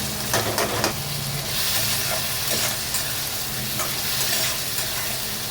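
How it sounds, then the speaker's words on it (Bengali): Potatoes sizzle in oil in a pan while being stirred with occasional scraping strokes, a steady close hiss with no voices. "বেশ খানিকক্ষণ আলুটা ভাজা হয়ে গেছে,"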